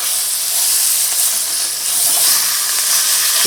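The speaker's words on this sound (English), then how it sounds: "you just want to sear all the parts that are" Meat searing in a cast iron pot, giving a loud, steady, close hiss of sizzling fat with a faint clink or two and no voices over it.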